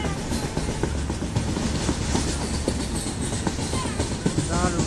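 A train rolls across the Farakka bridge, its wheels clattering in a steady dense rhythm over continuous loud rumble, heard from on board with a faint voice near the end.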